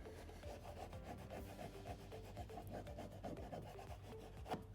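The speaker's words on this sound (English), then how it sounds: "So I'm going to squeegee that." Squeegee rubbing XPEL protection film onto a Cybertruck mudflap makes a faint, continuous scraping and rasping with rapid repeated strokes, heard close up and without talk.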